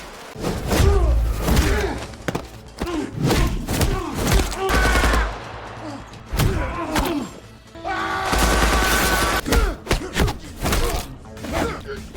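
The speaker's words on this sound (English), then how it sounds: "Mick and Mac went full guns blazing, killing Kent on the spot." Gunfire in an action film scene as assassins open fire with guns blazing, heavy bursts of shots and booming impacts in loud repeated volleys with brief pauses between, mixed with thuds.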